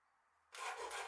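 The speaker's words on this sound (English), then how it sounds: "Grab a grater and start grating it finely." Garlic cloves rubbed finely across a metal grater, a dense rasping scrape that starts abruptly halfway through and continues close and steady with no talk.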